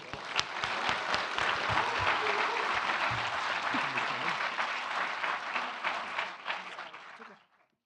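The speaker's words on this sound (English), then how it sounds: "Let's give them a round of applause again." Audience applause fills an awards ceremony hall, steady dense clapping from a sizable crowd lasting several seconds before tapering off quickly at the end.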